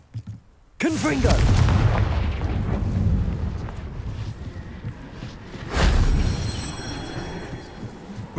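Confringo fire spell from the Hogwarts Legacy video game bursting in a loud, deep explosive boom with a whooshing rumble, followed by a second blast a few seconds later.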